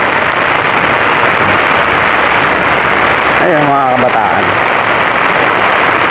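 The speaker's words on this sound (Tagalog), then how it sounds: "Lakas pa rin talaga ng ulan." Heavy rain pours steadily beside the Marikina River, a loud, continuous broadband hiss that fills the whole scene while someone briefly talks over it.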